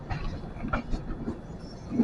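A passenger train rolls out of Rayagada station toward Jagdalpur, heard from inside as a low steady rumble with soft wheel clatter and faint squeaks.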